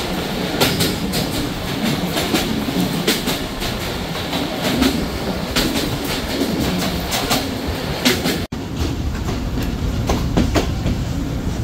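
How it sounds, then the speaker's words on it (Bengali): A passenger train runs on a rainy day on a line with many small station stops, pulling into Nandangachhi station: steady rolling rumble with repeated clickety-clack wheel beats throughout, close and loud, with no talk. "ট্রেনটি প্রবেশ করলো তার আরও একটি যাত্রাবিরতি স্টেশন নন্দনগাছিতে।"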